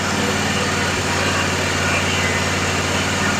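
A Toro Z580 zero-turn mower engine idles close by, a loud steady rumbling drone with a constant low pulse and no change in pace.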